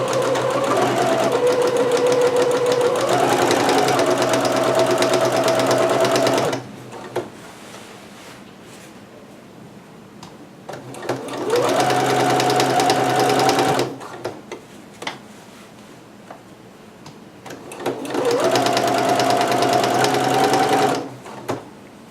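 Sewing machine stitching heavy kimono fabric, close and loud, runs in three bursts of rapid mechanical chatter with rising motor whine, separated by quiet pauses filled with soft fabric handling.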